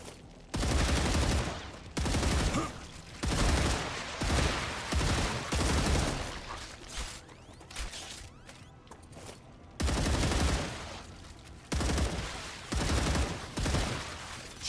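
Rapid bursts of gunfire from the video game StarRupture, loud and close, coming in repeated volleys with short pauses between them, with no talking over them.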